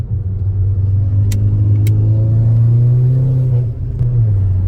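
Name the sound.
VW Golf 6 R Stage 2+ engine revving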